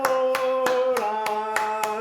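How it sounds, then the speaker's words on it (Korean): Seven sharp hand claps land at an even, steady beat, keeping time in a singing class while sustained musical tones ring underneath. "박수치기를 하는 거예요."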